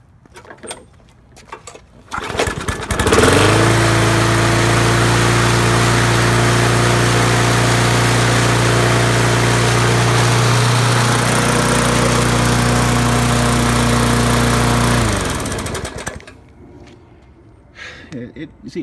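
An old Honda HRB 215 walk-behind lawn mower engine runs loud and steady for about twelve seconds at a constant drone, then cuts off, leaving quiet background.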